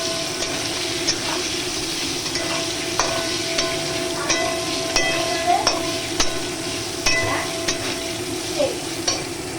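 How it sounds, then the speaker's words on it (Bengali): Potatoes frying in hot oil with salt and turmeric in a kadai, a close, constant sizzle broken by repeated spatula scrapes and taps as they are stirred. "এবার আলুটা ভেজে নেব।"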